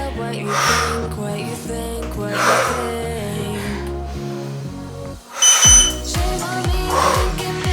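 Electronic timer beeping cuts through upbeat music, with a sharp, bright burst of beeps standing out near the end.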